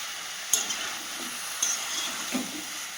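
A large batch of vegetables cooks in a big wok, a steady close hiss and sizzle broken by a few sharp scrapes and clatters of stirring.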